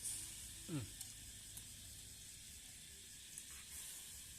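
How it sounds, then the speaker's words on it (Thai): Pork grilling on a moo kratha over coconut-shell charcoal, a faint steady sizzle and hiss with a few soft ticks, heard alone at low level. "ย่างต่อครับ ย่างต่อ"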